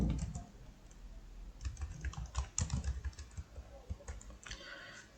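Rapid, uneven clatter of keys as MATLAB code is typed on a computer keyboard, close and clear, with irregular bursts and short pauses and no voices.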